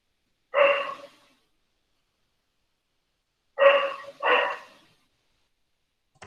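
A dog barks during an online meeting: one bark, then a quick pair of barks a few seconds later, clear and fairly close against silence.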